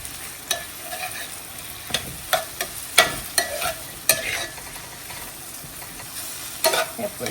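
Egg frying in a pan and being stirred, with scattered scraping clicks of the utensil over a steady soft sizzle, close by and alone without talk.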